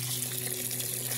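Water runs steadily from a garden hose onto potted plants, a continuous hiss and splash at close range with no one talking.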